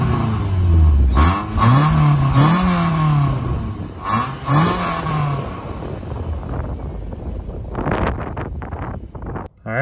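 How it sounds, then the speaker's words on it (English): Exhaust of a JDM fifth-generation Toyota Celica heard from behind as the engine revs up several times in quick, rising bursts, followed by gusting wind buffeting against the microphone. "And lastly is the exhaust note. I love how this thing sounds."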